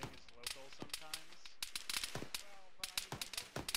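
Gunfire from the left during an infantry firefight in the military shooter Arma 3: sharp, crackling shots in quick irregular bursts, with rapid volleys near the end and quiet voices underneath.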